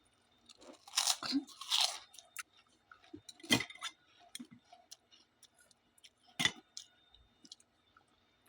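Food being bitten and chewed with loud crunches in a few separate bursts, close to the mic, with quieter mouth sounds between them and no talking.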